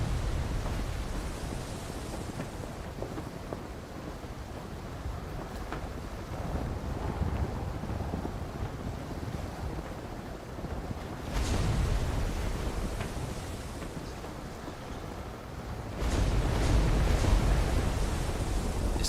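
A boat sails across ocean waves in the video game Arcane Odyssey, with a steady windy, rushing wash of water and air that swells louder in a few gusts, with no voices.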